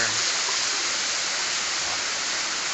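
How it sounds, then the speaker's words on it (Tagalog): Kinahulugan Falls in Lagunoy, Camarines Sur, pours with a steady, dense roar of rushing water that stays loud and even from start to finish. "Kinahulugan Falls. Here in Lagunoy, Camarines Sur."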